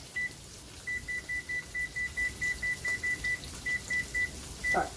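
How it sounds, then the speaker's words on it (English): A kitchen timer beeps as it is set for pork chops, giving a quick series of short, evenly spaced high electronic beeps that are close and moderately quiet, with a brief pause in the middle. "I'm going to go ahead and set my timer."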